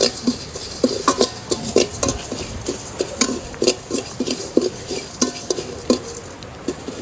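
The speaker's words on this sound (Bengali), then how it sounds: "পাঁচফোড়নের সাথে 5-6টা শুকনা মরিচ দিয়ে এটা ভেজে নিব।" Panch phoron spices and five or six dried chillies frying in a pan, with clattering stirring and scraping against the pan over a steady sizzle, close and fairly loud, and no talking.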